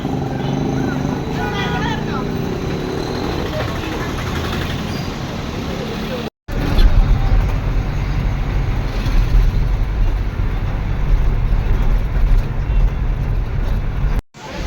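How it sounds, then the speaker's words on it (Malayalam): A bus pulls into Palayam bus stand amid a loud, continuous engine and traffic roar, with people talking over it throughout. "ബസ് വരുന്നുണ്ട്"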